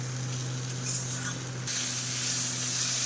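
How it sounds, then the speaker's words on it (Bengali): Ground sesame paste fries in a pan with a steady, close hiss and sizzle that grows slightly louder halfway through, with no talking. "এটা আমি এখন অনেকক্ষণ ভেজে নেবো।"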